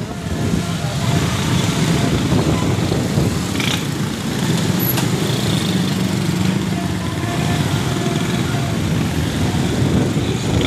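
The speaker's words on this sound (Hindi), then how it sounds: "कितना ट्रैफिक है।" Dense road traffic in the congested Teen Hatti area of Karachi, with a continuous loud mix of engines and motor noise close by, holding steady for the whole stretch.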